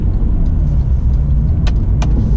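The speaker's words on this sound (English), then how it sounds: "I just got to get out of this traffic." A Porsche 997 drives through city traffic in central Sydney near Hyde Park with a steady, loud engine and road rumble throughout, plus a couple of brief sharp clicks.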